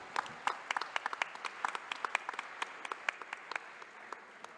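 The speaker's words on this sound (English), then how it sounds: "I think he deserves another round of applause" An audience at a conference session applauds a keynote panel speaker, a moderate stretch of scattered, distinct hand claps held steady throughout without speech.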